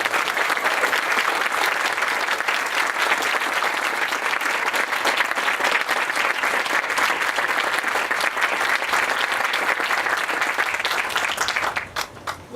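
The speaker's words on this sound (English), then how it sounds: "please join me in let's giving Judge Keith another round of applause" A large audience at a university groundbreaking ceremony gives Judge Keith a long, steady round of applause that holds strong for about twelve seconds, then thins to scattered claps at the end.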